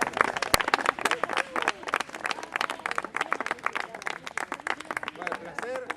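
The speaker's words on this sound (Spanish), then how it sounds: "vamos a aplaudir." A lecture audience claps after a university talk on Latin American underdevelopment, a dense, steady patter of many hands lasting throughout with crowd noise and voices mixed in.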